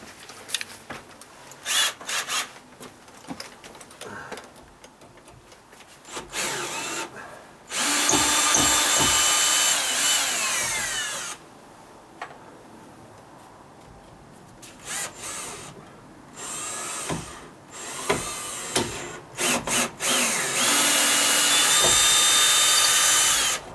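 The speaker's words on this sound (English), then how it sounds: "I'll just take my drill. I'll take my drill on" A power drill whirs in several bursts, backing screws out of dry-rotted wooden deck stairs, with grinding, rubbing noises between runs; close and fairly loud, no talking.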